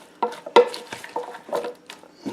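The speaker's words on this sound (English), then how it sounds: "I'm just going to mix it around." Fried cabbage being mixed in a Cosori Dual Blaze air fryer basket makes close, irregular scraping and clattering stir sounds in uneven bursts, with quiet gaps between them.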